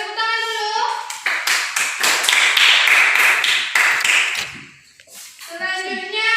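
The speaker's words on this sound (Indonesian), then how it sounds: "Tepuk tangan dulu." A classroom of young children claps hands together in a rapid, loud round of clapping that lasts a few seconds, with children's voices briefly heard before and after.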